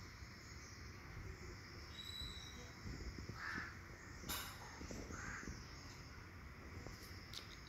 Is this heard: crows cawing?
yes